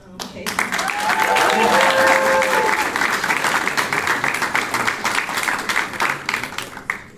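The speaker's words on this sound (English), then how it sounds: "I want to just give a round of applause to my little brother, RMC, for tonight." Audience applause at a youth entrepreneurship challenge, a crowd clapping for the speaker's little brother, swelling quickly and holding steady, with a few voices calling out beneath.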